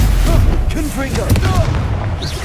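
Confringo fire spell bursting in the video game Hogwarts Legacy: deep booming blasts with crackling impacts in quick succession, fairly loud, mixed with shouted spoken voices and battle noise.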